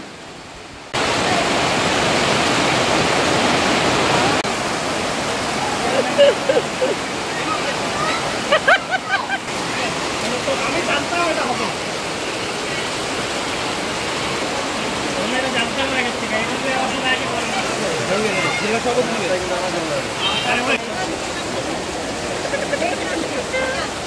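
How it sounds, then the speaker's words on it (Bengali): Heavy monsoon rain pours outside during a Bengali wedding reception, a dense, steady hiss that fills the whole stretch with faint scattered knocks. "তো তোমরা আওয়াজে বুঝতেই পারছো বাইরে কতটা বৃষ্টি হচ্ছে।"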